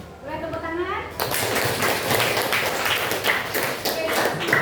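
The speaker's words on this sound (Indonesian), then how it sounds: "Boleh tepuk tangan." A classroom of students claps hands in a lively, close burst of scattered claps lasting several seconds, following a short bit of speech at the start.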